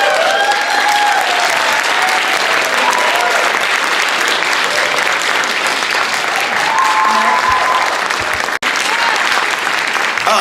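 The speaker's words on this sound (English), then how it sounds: "Y'all kept clapping." A crowd at a student talent showcase keeps clapping steadily, a loud, even roar of applause with scattered cheers and whistles running throughout, broken only by a single sharp knock near the end.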